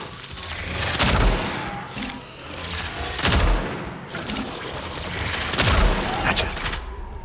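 Gunfire in the video game Cronos: The New Dawn: a few heavy shots ring out at intervals, each with a loud boom and tail, over a busy game soundscape with no talking.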